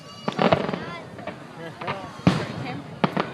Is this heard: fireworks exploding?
yes